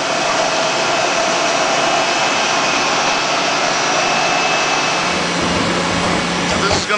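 A CNC machine cuts during production with its coolant pump running, giving a loud, steady broadband rush and whine that holds unbroken throughout, with a faint tonal hum underneath.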